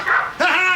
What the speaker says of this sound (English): The dogs bark.